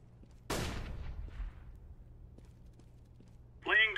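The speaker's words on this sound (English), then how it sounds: "I'm throwing a flashbang" A flashbang grenade going off in Counter-Strike: Global Offensive, a single sharp loud burst followed by a fading ringing decay over quiet game ambience, with a short electronic tone near the end.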